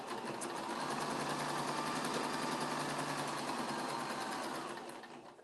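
A sewing machine chain-pieces quilt blocks in one continuous run of fast, even stitching, its close, high mechanical whir holding steady before slowing and fading at the end.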